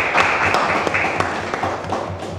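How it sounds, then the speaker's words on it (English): An audience applauds a young football player at a local school awards event, a brief burst of scattered hand claps at moderate distance, lasting a couple of seconds. "I think we should applaud him for that"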